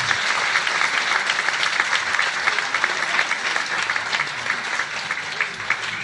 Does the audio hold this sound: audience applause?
yes